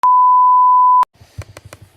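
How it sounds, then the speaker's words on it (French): A phone keypad sounds while a number is dialed: one long steady beep lasting about a second, then a quick series of four or five short tones in a row, close and clear with no talking. "son numéro de téléphone, je le tape"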